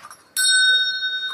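A small bell is rung once close by, giving a sharp, bright ding that rings on clearly and slowly fades, after a brief handling rustle.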